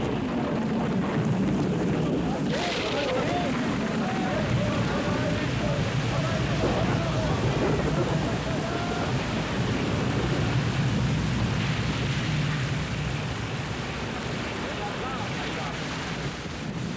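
Steady heavy rain and wind roar through a thunderstorm, with a low rumble of thunder under a continuous wash of noise, loud and close, with faint speech-like murmur mixed in.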